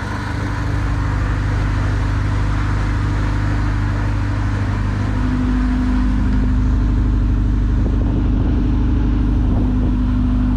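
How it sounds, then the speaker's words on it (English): A 1983 Porsche 944 project car idles steadily and loudly up close, its low engine drone carrying a rough grinding, rubbing edge, likely from a loose balance shaft belt, with slight shifts in pitch toward the end. "a grinding like noise. Probably a loose balance shaft belt rubbing the cover."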